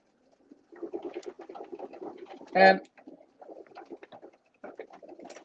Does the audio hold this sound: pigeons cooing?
yes